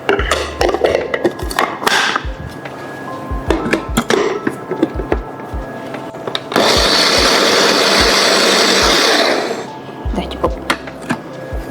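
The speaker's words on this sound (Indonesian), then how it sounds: "sekarang kita mau blender" A blender whirs loudly for a few seconds in the middle, coarsely grinding toasted coconut, surrounded by clattering, knocking kitchen sounds before and after.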